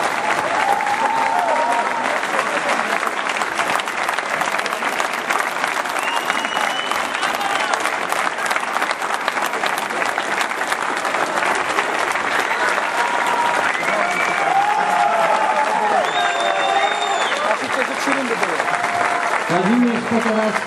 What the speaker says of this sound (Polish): brawa na stojąco, tym dwóm weteranom boksu